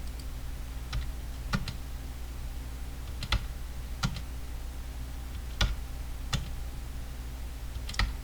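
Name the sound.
pressing Home key and spacebar on computer keyboard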